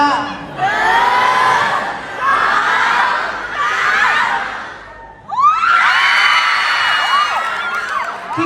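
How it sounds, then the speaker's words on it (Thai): A lively student crowd cheers, whoops and shouts at a campus tour event with dance performances, in loud swelling bursts that rise and fall, with a fresh surge near the end. "ขอเสียงปรบมือท่านแรก พี่โก"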